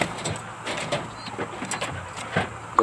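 Pet racing pigeons coo softly and intermittently while being fed, close by, over faint background noise.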